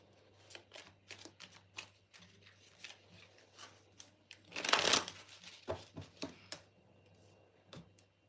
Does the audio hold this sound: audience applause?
no